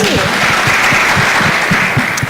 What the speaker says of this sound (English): Let's give her a very big round of applause for that